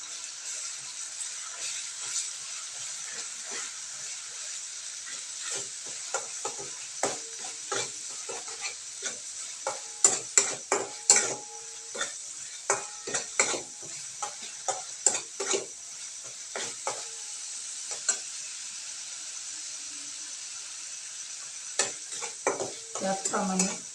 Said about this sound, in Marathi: जे खोबरं आपलं ओलं होतं ते त्याच्यामध्ये आपण ॲड करूया. चांगलं भाजून घेऊया तेलामध्ये